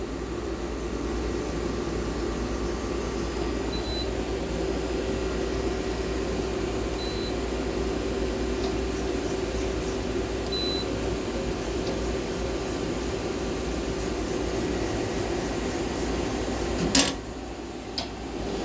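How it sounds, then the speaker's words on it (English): A CNC machine's turret moves aside under a steady, loud mechanical hum and whir, with a sharp clunk near the end. "Now we can move the turret out of the way."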